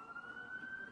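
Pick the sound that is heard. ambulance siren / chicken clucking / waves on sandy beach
ambulance siren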